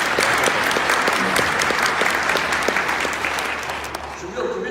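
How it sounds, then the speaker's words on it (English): Loud, dense applause from a crowd at a Conservative Party candidates' forum in Langley-Aldergrove, close and sustained before gradually tapering off, with a few scattered voices underneath. "Give them all a round of applause."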